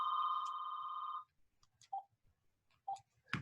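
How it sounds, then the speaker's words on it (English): A telephone rings with one long, steady electronic tone, followed by a few short beeps and clicks in a quiet room. "Sorry about that phone."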